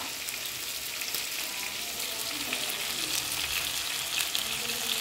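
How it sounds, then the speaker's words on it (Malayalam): Chicken pieces for Afghani chicken fry in a pan with a steady, bright sizzle that crackles evenly throughout, close and moderately loud, with no talking. "ഈ ചിക്കനെ ഞാനിങ്ങനെ ഫ്രൈ ചെയ്തെടുക്കുക"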